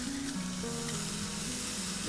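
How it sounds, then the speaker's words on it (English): Seasoned, oiled food sizzles in a hot pan with a steady crackling hiss and faint scattered pops, close by and fairly quiet, with no one talking. "My pan is lovely and hot, so I'm going to get the seasoned, oiled side down first."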